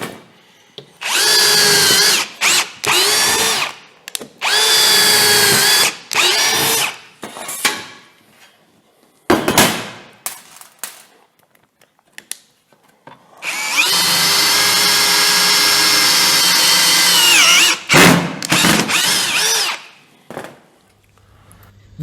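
An Einhell TP-CD 18/60 Li-i BL cordless brushless impact drill whines loudly up close in repeated bursts, several short runs followed by a longer sustained spin, with brief pauses and clicks between them.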